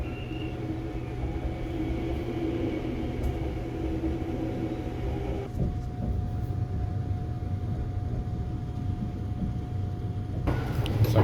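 Inside the Sunrise Express sleeper train in Japan, a steady low rumble and hum of the moving carriage runs continuously, with a faint tonal whine and a brief louder swell near the end, no talk.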